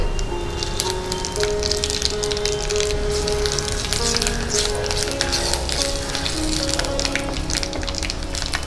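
Dried red chillies, whole cumin, whole coriander and five-spice crackling and sizzling in hot oil in an open-air kitchen, a dense continuous spatter of pops, close up and fairly loud, with no voices.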